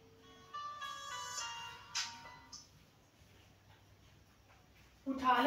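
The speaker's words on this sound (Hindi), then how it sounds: "आपको बार बार कॉल आई जा रही है" A mobile phone ringtone plays as a melodic tune with steady tonal notes for about two seconds, then fades amid quiet room noise, with a brief louder burst at the end.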